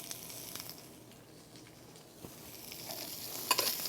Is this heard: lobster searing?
yes